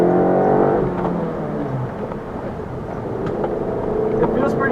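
A 2011 Mitsubishi Eclipse GS Sport engine hums steadily from inside the cabin while driving on wet roads, a loud continuous drone with a swell as it revs up near the start and again at the end, alongside talking.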